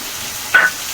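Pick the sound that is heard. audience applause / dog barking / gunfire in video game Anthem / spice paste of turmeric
spice paste of turmeric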